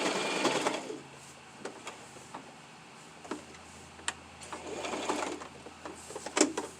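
A sewing machine backstitching a fabric drawstring face mask, with bursts of rapid mechanical stitching and clicking ticks separated by short pauses, close up and without speech.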